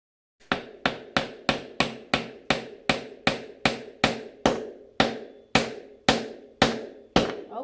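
A hammer strikes wooden pieces about fifteen times in a fast, even rhythm, each sharp knock ringing briefly, with a short pause before the final few blows.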